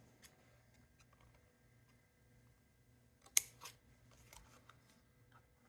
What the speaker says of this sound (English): So I'm going to cut the excess off this one.